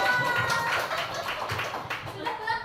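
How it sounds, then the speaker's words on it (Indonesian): Audience clapping together at a school teachers' session, a steady, moderately loud patter of hands with voices murmuring underneath throughout. "silakan tepuk tangan dulu semuanya"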